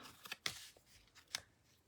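A few sharp, crisp snaps of a handheld craft punch cutting through paper cardstock for a card, close and isolated with quiet pauses between them.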